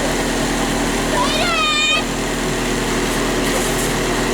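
A car engine idles during an ice storm in Dallas to defrost an iced-over vehicle, a steady close mechanical hum throughout, with a brief rising whine and voices faintly mixed in.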